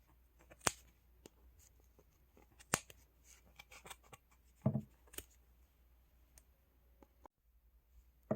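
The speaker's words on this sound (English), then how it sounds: "So now we're going to trim our sides, and we are going to start seeing that pom-pom come alive." Scissors trimming the sides of a yarn pom-pom, a handful of sharp, close snips spaced irregularly over several seconds, with soft rustling of yarn between cuts and no talking.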